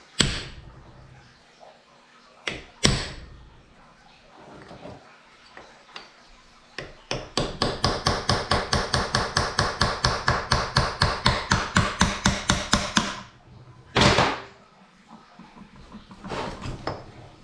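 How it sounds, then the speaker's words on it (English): A hammer taps a chisel to mark parts of a 2006 Lexus GX470 transfer case during teardown: a few sharp, separate strikes, then a long, steady run of rapid, evenly spaced metallic taps, and one last hit. "I'm just going to put a little chisel mark on them."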